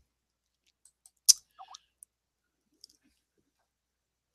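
A computer mouse gives a few sharp, isolated clicks in a quiet room, with one louder click cluster near the start and soft taps spaced out afterward.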